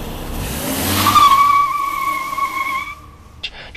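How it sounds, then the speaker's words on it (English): Tires of a 2013 Volvo C30 R-Design Polestar spin and squeal under full acceleration, a loud sustained screech rising over the engine roar and fading after about three seconds, with no talking. "mat the accelerator, the wheels will spin"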